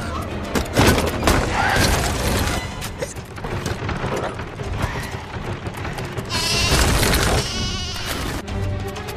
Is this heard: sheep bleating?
yes